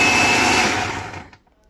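A kitchen blender pulses tomatoes into diced chunks for canning, a loud steady whirring roar that runs for over a second, then winds down and cuts off.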